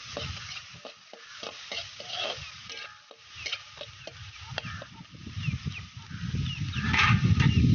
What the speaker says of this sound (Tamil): இப்போ சோயா சாஸ் ஊற்றிக்கலாம் நல்லா கிளறிக்கலாம்